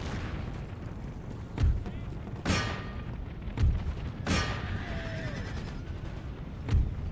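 Distant cannon booms in Empire: Total War sound at irregular intervals, about five deep thuds over a steady rumbling background, with a faint whistle between shots.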